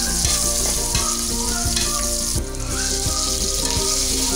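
Onions fry on a high flame in soybean oil, a steady dense sizzle with light stirring scrapes throughout, close and alone with no voices.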